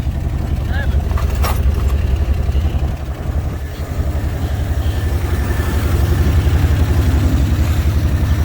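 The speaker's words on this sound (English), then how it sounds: "idling down now?" A 1949 Chevrolet engine idles on a cold start with a steady low rumble throughout, fairly loud and continuous, with a brief dip midway and some background noise layered over it.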